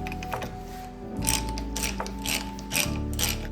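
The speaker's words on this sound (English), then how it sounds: "And we can start tightening our bottom nut." A ratchet wrench tightens the bottom nut on a motorcycle fork during a home rebuild, giving a steady run of close, even clicks with a couple of pauses between pulls.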